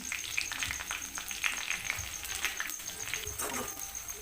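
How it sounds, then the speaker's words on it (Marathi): Onion is added to oil with browned garlic for a ridge gourd bhaji, giving a close, continuous crackling sizzle with scattered pops and a faint scrape of stirring, and no voices. "लसूण लालसर झाला की त्याच्यामध्ये कांदा पण टाकून घ्यायचा आहे"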